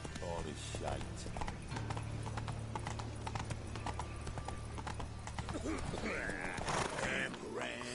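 In The Witcher 3, the horse Roach moves along with brisk rhythmic clip-clop hoofbeats, joined by a brief whinny, while someone talks over the top.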